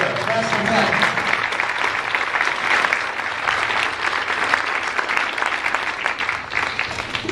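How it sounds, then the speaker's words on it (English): Audience applause fills a school band concert hall after a Chanhassen High School brass quintet performance, a dense, steady clapping from a crowd lasting throughout. "How about a nice round of applause again for Chanhassen High School"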